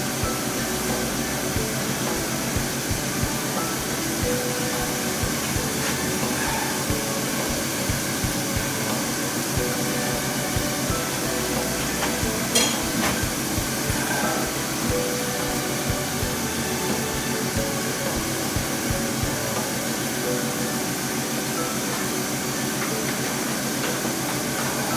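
A wood lathe spins a shaving brush blank to dry it, giving a steady, continuous whirring hiss that runs unbroken for a long stretch with no talking.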